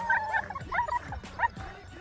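Litter of puppies barking, yipping and whimpering close by in a busy overlapping chorus of short high-pitched calls.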